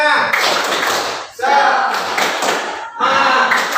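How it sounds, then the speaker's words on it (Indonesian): Students clap together in a rhythmic classroom cheer, three loud bursts of dense, close claps separated by brief pauses, with voices mixed in. "Ya, tepuk semangat."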